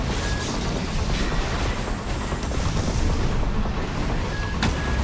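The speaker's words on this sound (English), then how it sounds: "Plasma missiles, I mean." Plasma missiles in the video game Armored Core 6 fire and explode in a dense, continuous barrage of loud, booming blasts with a sharp burst near the end.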